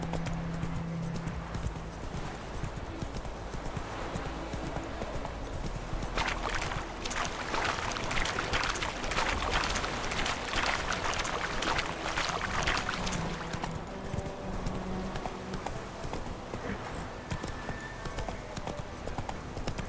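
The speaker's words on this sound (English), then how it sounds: "Giddy up. Run, Roach" Horse galloping in the video game The Witcher 3, a steady rhythmic clip-clop of hooves running throughout, with a brief neigh and background game ambience.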